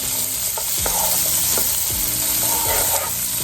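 Onions fry and sizzle in a pan for fried rice, a steady loud hiss with occasional stirring scrapes and clinks of a utensil against the pan, no talking.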